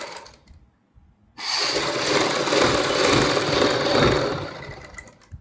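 A sewing machine runs steadily for about four seconds, stitching a double-folded fabric strip on a kurti neckline, after a short quiet pause and some faint handling noise. The motor whirs loudly and continuously with no talking.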